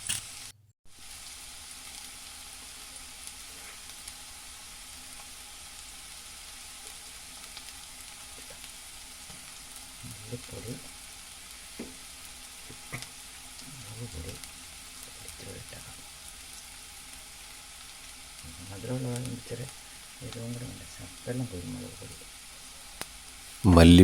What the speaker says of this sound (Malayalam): അതിനുശേഷം ഒരു ചീനിച്ചട്ടി അടുപ്പിൽ വെച്ചിട്ട് അതിൽ കുറച്ച് എണ്ണ ഒഴിച്ച് കുറച്ച് സവോളയൊക്കെ അരിഞ്ഞിട്ടിട്ട് ഒന്ന് നന്നായിട്ട് വഴറ്റിയെടുക്കുക.